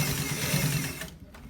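A sewing machine stitching fabric while a V-neck is sewn, giving a steady low mechanical whir that runs continuously, then eases off near the end as the stitching pauses.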